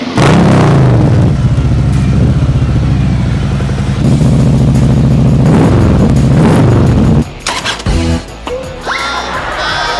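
A heavy Harley-Davidson touring motorcycle exhaust revs loudly and close, rumbling and surging for several seconds before cutting off into brief clattering and scattered noises.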